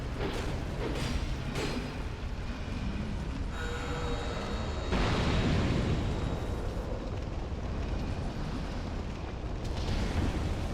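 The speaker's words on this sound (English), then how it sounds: "I just need to bait them into exploding at this point." Enemies blowing up in Dark Souls 2, loud rumbling blasts and crackling bursts over a steady roaring game soundscape, several explosions in a row with a big surge midway, no talking.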